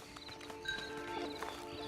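Horse hooves clip-clopping at a steady walking rhythm in the Red Dead Online video game, moderately close, with a faint whinny-like tone and light ambient game sound, no talk.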